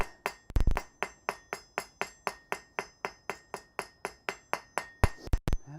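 A hammer taps hot metal on an anvil in a smithy, striking in a fast, even rhythm of about twenty ringing blows with a few heavier, louder hits near the start and end, all close and loud.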